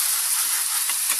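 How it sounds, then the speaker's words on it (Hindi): A ground paste of onion, garlic, green chilli and cumin sizzles in hot oil, a steady bright hiss of frying close up with no speech. "उसमें हम डाल देंगे ये जो हमने प्याज और लहसुन, हरी मिर्ची और लहसुन और जीरे को जो पीसे थे, चॉप करे थे, वो डाल देंगे। और इसे अच्छे से हम भूनने देंगे।"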